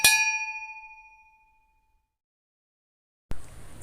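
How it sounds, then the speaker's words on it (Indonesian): A single bright notification bell ding rings out clearly and decays over about a second and a half, then silence before a faint noisy hum begins near the end. "jangan lupa untuk bunyikan notif loncengnya"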